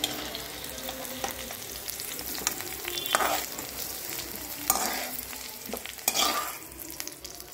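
Okra frying in a pan while being stirred, a continuous sizzle broken by three or four sharp scraping strokes of the spoon, close and clear with no talk.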